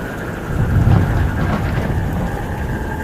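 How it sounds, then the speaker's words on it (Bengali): Heavy rain pours down in a steady, loud, dense roar that swells slightly midway and never lets up, with no voices over it. "সকাল থেকেই এমন বৃষ্টি হয়ে চলেছে"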